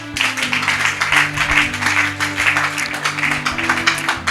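A gathered audience at a Bible study claps together in a dense, sustained round of applause, loud and close, with a low musical drone humming underneath throughout.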